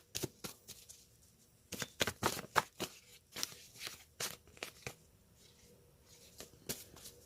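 Tarot cards being shuffled by hand during a reading, a run of crisp riffling bursts and soft card slaps in irregular clusters, close and fairly quiet, with no talking.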